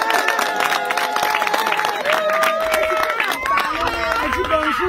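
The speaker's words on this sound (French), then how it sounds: "Applaudissez pour maman." A church audience applauds for a mother, with loud, continuous dense clapping mixed with cheering voices and crowd chatter throughout.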